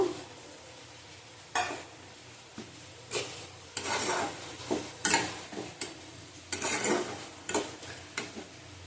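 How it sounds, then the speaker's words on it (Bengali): Ground spices with Kashmiri chili powder, cumin powder and a splash of water being stirred and sautéed in a pan for green banana kofta curry, giving repeated scraping, rasping spoon strokes over a soft sizzle, close and moderately loud. "ভালো করে কষিয়ে নেব"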